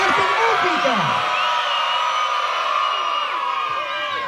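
A crowd of children shouting loudly together at a Children's Day event, a sustained, dense wall of high voices and whoops that stays loud throughout.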